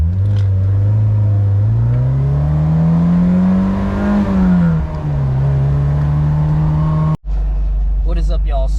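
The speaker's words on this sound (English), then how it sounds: "let's see how it sounds just like regular exhaust, like standstill" A Honda S2000 with a flashing check engine light revs at standstill through its regular exhaust, a loud, close engine note climbing to a peak and easing back, then cutting off abruptly, with brief speech afterward.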